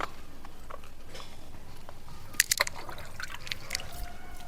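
Soft trickling and pattering of water poured onto the soil of garden plants, faint and steady with a few brief splashes near the middle.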